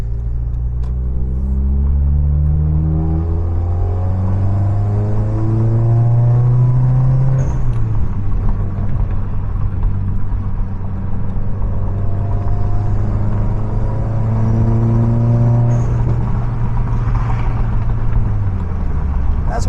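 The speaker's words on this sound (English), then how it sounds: "I like hearing that blow off valve." A turbocharged Subaru WRX engine drones steadily up close, rising and falling in pitch as it accelerates and shifts, with a soft whoosh from the blow-off valve releasing boost between pulls.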